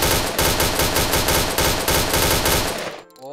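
OA submachine gun in the Point Blank video game fires rapidly in one loud, continuous burst of closely spaced shots for about three seconds before cutting off abruptly.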